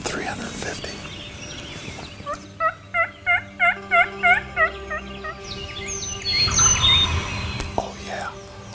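Wild turkeys in Tennessee woods: a run of about eight loud, rhythmic gobbles from toms chasing hens, with softer yelps and chirps scattered around them.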